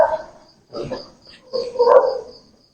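A dog barks in short bursts outside a historic house, the barks coming close and loud with brief gaps between them.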